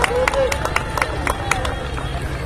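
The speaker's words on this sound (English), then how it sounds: "Crowd out there trying to scream and give her a fit." Crowd at a regional championship softball game, Muhlenberg Mustangs vs Daviess County, yelling and clapping in a fast rhythmic beat, loud and close, with voices raised over the claps.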